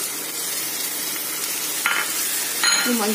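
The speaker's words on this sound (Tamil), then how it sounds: "தக்காளி நல்லா வதங்க வரைக்கும் நல்லா பரட்டி விட்டுட்டே இருங்க" Chopped tomatoes frying in a pan for Malabar chicken dum biryani, a steady close sizzle with a couple of brief spatula scrapes and clinks near the end, no talking.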